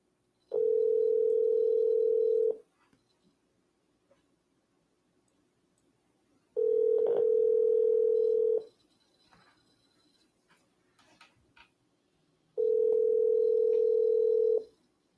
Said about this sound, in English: We'll just go ahead and dial the next number.